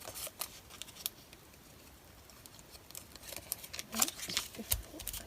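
Scissors snip through paper scraps at a desk in a series of faint, quick cuts with soft rustling between them, close by and quiet.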